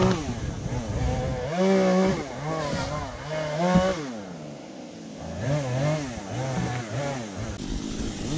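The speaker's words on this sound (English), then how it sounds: "One of the neighbors is joining force with another chainsaw." Chainsaws cutting through storm debris to clear a road, engine revving up and bogging down in repeated bursts, loud and near, with a second saw joining in the background.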